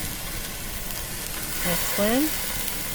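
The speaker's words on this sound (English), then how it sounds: "We're going to put them on the hot grill. So first one goes down. Ooh, I love the sizzle." Turkey rolls laid on a hot grill give off a steady hissing sizzle close by, with a brief spoken remark over it.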